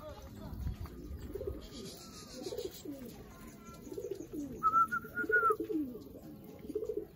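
Racing pigeons arriving home from Santo Tomas, Batangas give soft, low repeated coos amid other bird calls and chirps, with people talking nearby and steady background noise.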